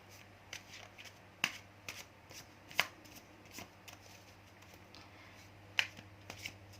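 Tarot cards shuffled for a reading, heard as faint, scattered papery flicks and soft card snaps over a steady low hum, with a few sharper riffles standing out.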